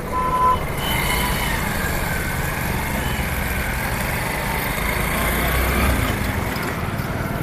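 A two-wheeler motorcycle bike trolley fitted with an extra reverse-forward gearbox runs with a steady, loud engine drone and rumble, continuous throughout with no talk.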